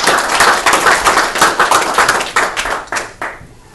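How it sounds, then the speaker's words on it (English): Audience at a mentor training session gives a round of applause, a close, lively burst of many hands clapping for a few seconds before it tapers off and ends. "So I'd like to give her a round of applause."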